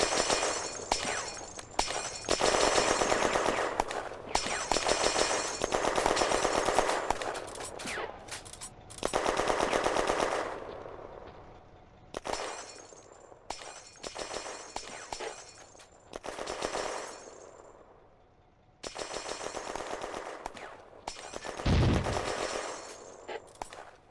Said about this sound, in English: Heavy fire suppresses the anti-tank gun crew as the French infantry advance.